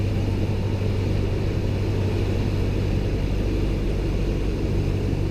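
A light aircraft engine drones steadily and loudly in the cabin as power is pulled back for descent, with a broad rumbling hum and no audible change in rhythm.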